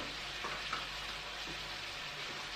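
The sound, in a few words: spices frying in a pan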